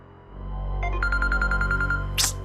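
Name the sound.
phone ringing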